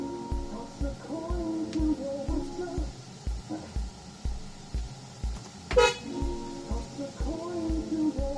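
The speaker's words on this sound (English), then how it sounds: "Horn sounds." A Tesla Model Y sounds its horn in a repeated series of short, loud honks with a regular rhythm, close by, over a low steady background.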